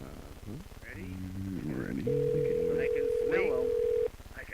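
A telephone on a radio show gives a steady two-second electronic tone, heard under and between voices talking in the studio.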